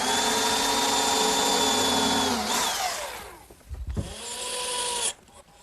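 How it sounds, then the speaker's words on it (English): A power drill whines at high speed as it drills and countersinks screw holes in a wooden box side. The pitch sags and stops, then a second short burst follows before it cuts off. "Now I'll just drill and countersink for the screws."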